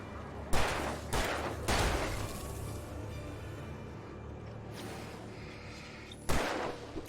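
A few sharp gunshots from the video game Alan Wake Remastered, three in quick succession and one more after a pause, over a quiet hum.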